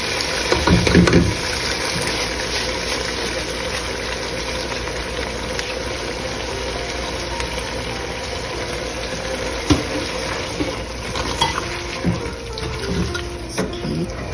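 Water poured into a pot of cooking dal with spiced masala in a home kitchen, a steady continuous splashing and trickling stream lasting throughout, fairly close, with a few small clinks of utensils.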